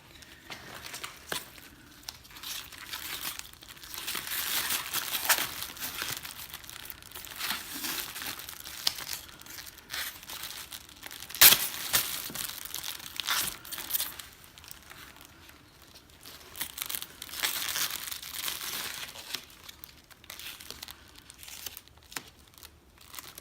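Plastic tape film crinkling during splinting of a foot and ankle with an L and U splint, rustling and crackling steadily and close by for a long stretch, with one sharp snap midway.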